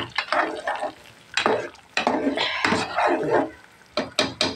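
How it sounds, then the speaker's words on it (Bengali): Tempering spices hit hot oil for a jute leaf and khesari lentil dish, bursting into loud, close crackling sizzles in uneven waves with brief quieter gaps and some utensil clatter. "এই দেখেন একটু ফোড়ন দিয়ে দিছি"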